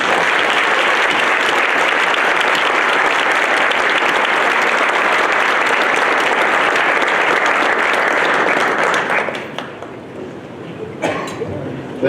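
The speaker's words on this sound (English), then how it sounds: "Another round of applause for all of our winners today" Sustained, dense applause from a luncheon audience honoring award winners, loud and steady for about nine seconds before thinning out to scattered claps, with some voices mixed in.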